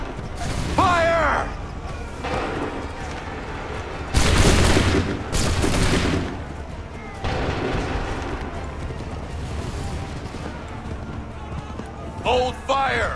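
Musket volleys crack out in Assassin's Creed 3 as a line of soldiers fires on command, with several bursts of overlapping shots and booms amid battle noise, while voices shout orders between the volleys.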